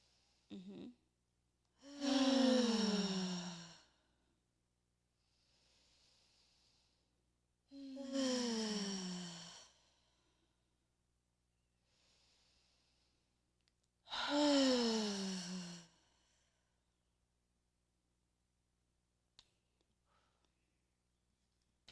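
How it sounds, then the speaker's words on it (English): Three deep, slow breaths, each a long audible inhale followed by a heavy, voiced exhale, spaced evenly several seconds apart in a quiet room. "everybody take 3 deep breaths. Inhale and then exhale. I want you to hear you exhale"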